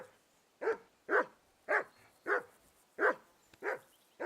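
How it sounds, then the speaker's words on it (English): A dog in the Kingdom Come: Deliverance II video game barks repeatedly, with eight evenly paced woofs at moderate volume and no talking. "That barking was a pain in the ass."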